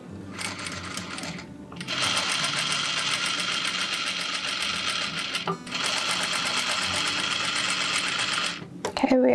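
A sewing machine back stitches the seams of a Lola dress, running in two long steady bursts of rapid mechanical stitching with a brief pause between them and a short stop at the end.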